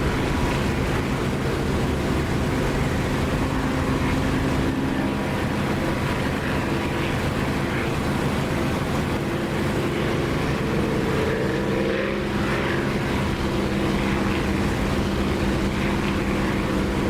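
A Spitfire propeller aircraft engine in the DCS flight simulator drones steadily and loudly throughout, a constant rumbling roar with a slight shift in tone partway through.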